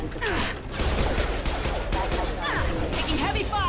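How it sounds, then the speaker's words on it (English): Heavy gunfire in the Mass Effect Legendary Edition shooter game: dense, continuous loud bursts of weapon fire and impacts over about four seconds, with in-game voices mixed in. "Taking heavy fire!"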